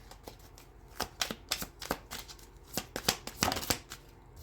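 Tarot cards being shuffled by hand, a quick series of crisp riffling snaps and flicks in an irregular rhythm, close and clear with no talking.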